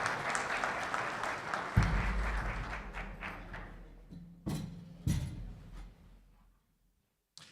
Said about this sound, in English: another round of applause for our amazing Board of Trustees